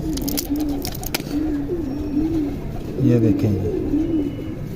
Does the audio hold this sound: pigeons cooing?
yes